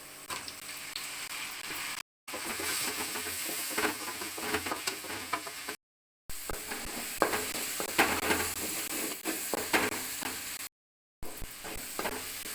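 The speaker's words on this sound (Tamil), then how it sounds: "வெங்காயம் நல்லா வதங்கணும்" Onions sautéing in a pan for a ghee chicken fry, a steady crackling sizzle with repeated stirring and scraping of a utensil against the pan, continuous apart from brief cuts to silence.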